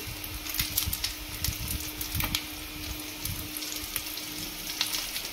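Fish pieces fry in oil in a pan, a steady close sizzle with constant crackling and occasional sharper pops, continuing evenly throughout without any talk.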